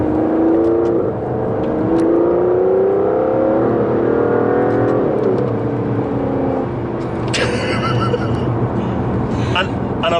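An Aston Martin DBS Superleggera pulls hard in third gear, its engine note climbing steadily and loudly from inside the cabin, then easing slightly, with someone talking over it much of the time.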